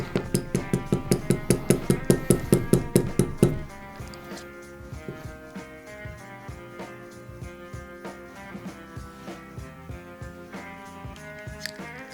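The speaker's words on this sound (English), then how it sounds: "Throw them in our Dr. Slick hair stacker here. And give it a tap, get those tips aligned." A Dr. Slick hair stacker is tapped repeatedly on a fly-tying bench to align hair tips, giving a fast run of sharp metallic knocks that is loud at first and then carries on as softer, ringing taps.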